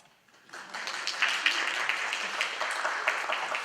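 Audience applause at a candidates night in Norfolk, a short quiet start giving way to steady, dense clapping that holds at a moderate level throughout.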